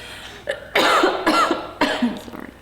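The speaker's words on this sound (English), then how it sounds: "let you have a cough." Several harsh, close coughs in quick succession, loud and breathy, with short pauses between bursts.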